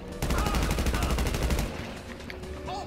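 Rapid automatic gunfire in GTA V Online, a loud burst of fast repeated shots for about a second and a half, then quieter ambient noise.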